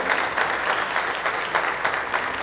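An audience at a Cameroonian film festival gala applauds steadily, a dense patter of many hands clapping throughout, fairly loud and unbroken.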